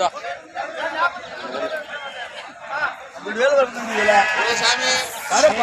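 Sheep bleat at the Allagadda sheep market in Andhra Pradesh amid loud crowd chatter, their wavering cries rising more clearly toward the end over the steady human babble.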